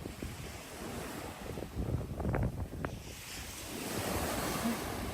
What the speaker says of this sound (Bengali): কি ঢেউ!